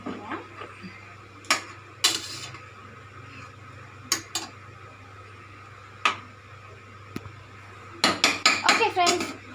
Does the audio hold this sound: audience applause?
no